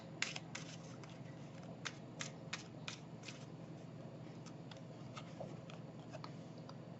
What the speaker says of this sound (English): let me get another card